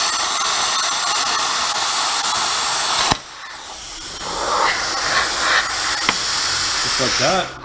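A 200-dollar electric cutter running on 26 amps from a welding outlet cuts metal during a GMC truck fabrication build, with a loud, steady hiss that cuts off sharply, followed by a quieter, uneven hiss with shifting tones and brief clicks.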